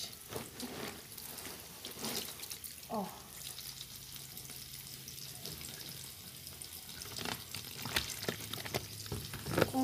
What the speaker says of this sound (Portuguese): Agora eu já vou passar mais uma água aqui